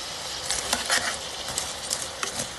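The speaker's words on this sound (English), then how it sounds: "Let's give it a thorough stir and mix it well to get a uniform" Sliced Swiss mushrooms are stirred in a hot pan, giving a steady close sizzle broken by irregular soft scraping clicks from the spoon.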